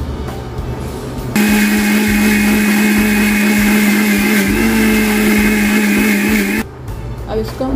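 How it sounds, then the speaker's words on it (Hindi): An electric blender whirs at a loud, steady pitch for about five seconds, blending coconut chutney with salt and water, then cuts off abruptly. "अब इसको हम करते हैं ब्लेंड, इसको हम कर देंगे ब्लेंड।"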